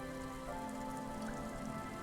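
Rain in the video game Disco Elysium, a steady, dense pattering wash over hard surfaces, continuous and even in level throughout, with a faint tonal hum beneath and no voices.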